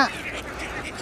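A flock of seagulls at Bang Pu, Samut Prakan, swoops in to be hand-fed, giving a short burst of nasal, duck-like calls at the start that fade into a steady wash of bird and crowd noise.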